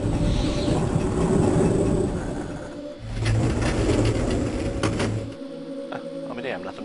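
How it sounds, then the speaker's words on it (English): The sky tram in the video game Resident Evil 2 runs with a steady low rumble and rattling mechanical drone. The sound is fairly loud and continuous, then drops off near the end. "we're gonna ride the sky tram"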